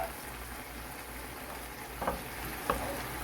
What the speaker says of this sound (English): I'm gonna cook my shrimp